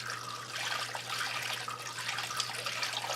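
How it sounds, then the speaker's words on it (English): Beer wort from an extract brew kit, a limited-edition El Modelo De Mayo, pours steadily into a vessel, a continuous splashing liquid stream with no speech. "So you basically pour most of this in there,"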